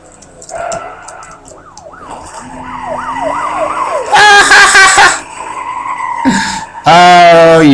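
Wailing, rising-and-falling siren from a police car in the Need for Speed: Most Wanted racing game, joined by loud bursts of tire skidding and crashes, with a long closing screech at the end.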